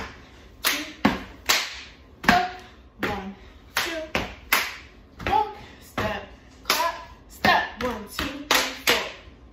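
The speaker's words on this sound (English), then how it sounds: "your hands are gonna clap forwards here" Sharp, crisp hand claps during a step-dance routine at a family dance class, about twenty loud claps in uneven rhythmic clusters with brief silences between, alongside occasional speech from an instructor.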